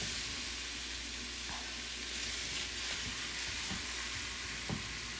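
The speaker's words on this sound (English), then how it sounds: "on this pan, try to not have the sweet potato cook to the bottom of the pan by moving it around." Sweet potato frying in a pan, a loud steady sizzle with occasional scrapes and light knocks as it is stirred around, no talking.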